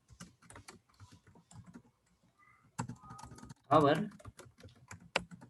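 Computer keyboard typing while HTML code is entered, including a heading tag and division: bursts of close, crisp keystrokes interleaved with a man's speech, with a louder, denser flurry of clicking near the end.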